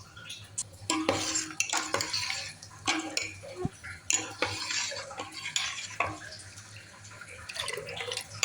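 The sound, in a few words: pouring blended drumstick pulp into water in a pot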